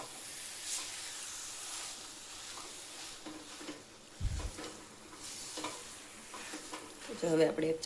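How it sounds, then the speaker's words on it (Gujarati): A pan of thabdi, a browning milk sweet, sizzles and hisses steadily while a spoon scrapes and stirs it, with a few sharper clinks near the end. "એકદમ શેકવાનું છે આપણે. ફૂલ થાબડી જેટલું બ્રાઉન કરી લઈશું."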